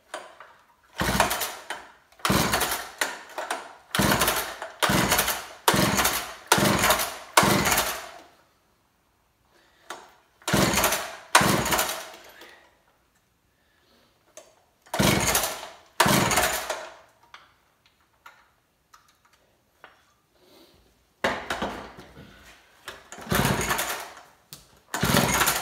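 An old McCulloch Mac 15 chainsaw with a floppy choke being pull-started, with repeated loud, broadband bursts of a few seconds each, short runs of engine noise separated by quiet gaps, no voices.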